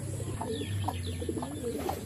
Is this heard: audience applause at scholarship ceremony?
no